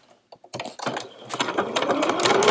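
A sewing machine joins two pieces of fabric for a changing pad with a 3/8 inch seam, starting with a few separate clicks and then settling into a steady, close, rapid stitching whir.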